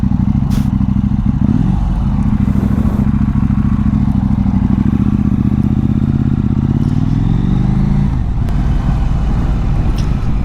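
A KTM 790 Duke motorcycle fitted with a booster plug idles steadily and loudly up close, a continuous low engine drone with slight shifts in pitch and a few brief clicks and rattles, no talk.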